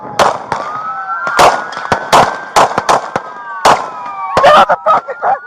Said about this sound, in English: Officer number 1 empties his magazine, reloads, chases him down, and fires a few more shots